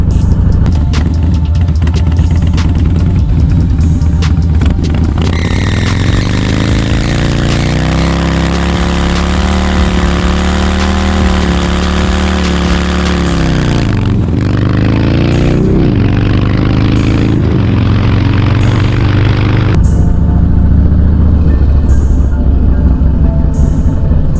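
A Harley Dyna motorcycle engine roars during a test ride, loud and close, its pitch rising and falling through gear changes with steady wind rush over the whole run.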